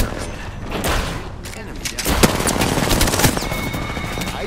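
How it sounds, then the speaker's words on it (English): Dense, continuous automatic gunfire from a video game, loud and chaotic, with rapid bursts layered over one another and mechanical clatter throughout. "There were three people shooting at them."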